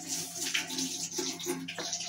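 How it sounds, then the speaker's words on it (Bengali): Milk pours into a pot for vermicelli payesh, a soft gurgling liquid stream with uneven splashes over about two seconds, quiet and close, with no voices. "এটার মধ্যে আমি দুধটা ঢেলে দিচ্ছি"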